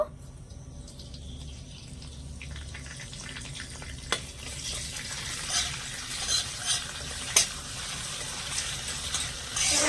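Curry leaves and green chillies fry lightly in a pan, giving a steady low sizzle with a brighter crackle building midway and a few faint clinks of a spoon.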